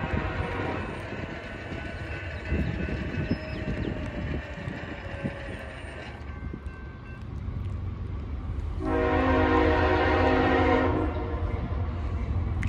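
A train rolls slowly past a railroad crossing on Sturgeon Point Road in Derby, New York, with a steady rumble and wheel noise and a sustained horn sounding loudly near the end.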